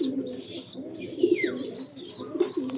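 Racing pigeons at a training session coo in low, repeated throaty notes close by, with small birds chirping and whistling faintly higher up in the background.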